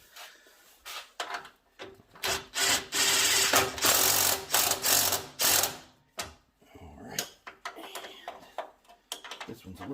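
Rapid ratchet wrench clicking in bursts while tightening an air shock bolt on a Chevy S10, close and fairly loud, with pauses between runs of clicks.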